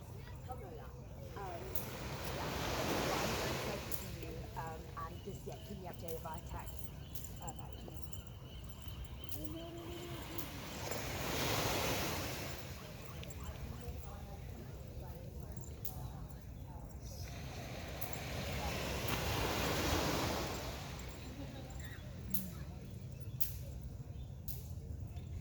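Surf rolls onto a San Francisco beach, three slow broad washes of breaking waves swelling and fading about eight seconds apart over a steady hiss, with faint voices in the background.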